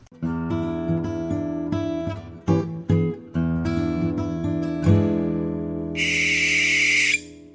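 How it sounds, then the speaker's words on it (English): A harsh, raspy barn owl screech bursts out near the end, cutting sharply over steady tonal music that fills the rest of the clip. "That was the sound of the barn owl, a very distinctive owl with a very distinctive cry."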